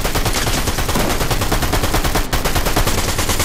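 Nonstop loud automatic gunfire from Fortnite Chapter 5 Season 2 rattles in a rapid, unbroken stream with only a split-second gap partway through.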